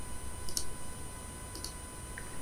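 Computer mouse clicks while working in Photoshop: a quick double click near the start, another pair about a second later and a faint single tick at the end, all soft over a quiet room hum.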